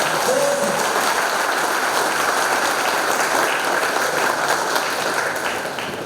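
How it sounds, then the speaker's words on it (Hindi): Seminar audience in a housing society hall clapping loudly and continuously, a thick roar of applause that holds steady and only tapers slightly at the end. "अभी आपने कैसा है, ये ताली बजाया ना, ये ताली का जो गड़गड़ाहट था"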